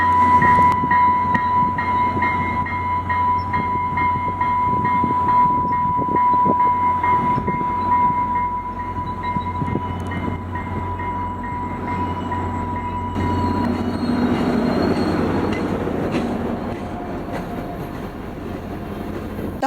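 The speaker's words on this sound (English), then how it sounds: "Next up was the southbound FrontRunner with cab car 103 in the lead." A southbound FrontRunner commuter train, cab car leading, rumbles loudly nearby as it departs a station in Utah, with a steady tone at first and rising rolling wheel noise later.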